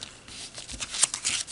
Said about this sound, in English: Alright, now fold one flap over.